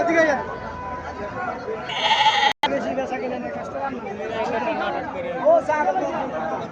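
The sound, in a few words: goats bleating at a market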